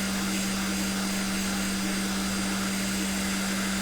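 A hot air rework station blows steadily while heating a phone connector during a drop-damaged phone repair, giving a continuous airy whoosh with a low electrical hum underneath, unbroken and close.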